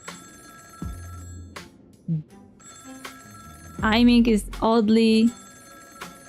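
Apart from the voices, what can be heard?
phone ringing in the video game Honkai: Star Rail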